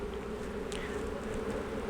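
Honey bees cluster on a hive frame during a spring inspection, their close, continuous buzz holding steady throughout the short moment with no voices.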